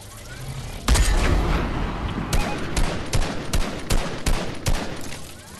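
Gunfire in the game Fortnite: a loud blast opens, then a string of sharp, separate shots crack at irregular intervals over a rumbling backdrop, close and punchy.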